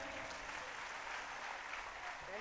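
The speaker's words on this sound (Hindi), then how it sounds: "चैम्बर ऑफ कॉमर्स के लिए भी एक बार तालियां हो जाए जोर से" Loud, sustained clapping from a large gathered audience at a religious katha event, honouring the Chamber of Commerce, dense and continuous from start to finish with no voice on top.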